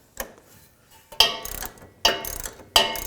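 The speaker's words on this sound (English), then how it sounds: "Now I'll tighten this nut up." A ratchet wrench tightens the lower nut on a rear sway bar link on a 2000–13 GMC Yukon, giving three or four short bursts of quick, close clicking separated by brief pauses.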